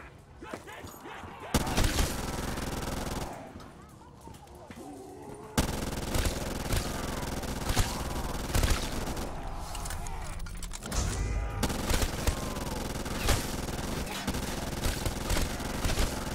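Light machine gun fire in Black Ops 3 Zombies on the Der Riese map, with rapid bursts of shots amid creaking mechanisms and game effects, loud and near, interrupted by brief quieter gaps.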